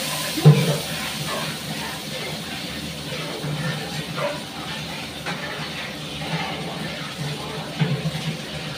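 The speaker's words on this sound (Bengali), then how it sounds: "কড়াইটা ধুয়ে আবার বসিয়ে দিচ্ছি।" Running water and a broadband rinsing hiss while a kadai (wok) is washed at a kitchen sink, a steady low wash with a few small clatters and bumps throughout.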